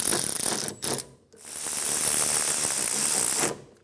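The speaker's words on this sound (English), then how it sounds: "Snug down the caliper bolts." A hand ratchet clicks steadily while snugging brake caliper bolts on a 2003-2007 Infiniti G35 rear brake job, close and loud in two short bursts split by a brief pause.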